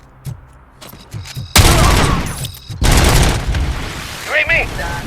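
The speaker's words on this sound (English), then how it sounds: "Who the hell shot at me?" Enemy gunfire in the video game RoboCop: Rogue City, a few sharp shots followed by two loud sustained bursts of booming fire, close and intense, with a voice speaking between and beneath the shooting.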